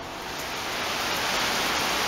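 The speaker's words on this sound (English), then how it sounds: "we have rain of all types and colors and shapes and sizes" Rain falls in Pasadena, Maryland, heard as a loud, even wash of noise that builds slightly and holds steady, with no voices present.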